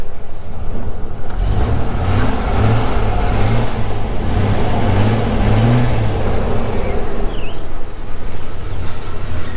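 A 2000 Chevy Blazer SUV engine runs steadily up close, a loud, continuous low rumble with slight rhythmic pulsing and faint voices in the background.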